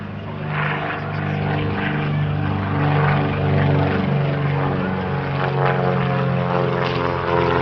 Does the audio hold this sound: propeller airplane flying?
yes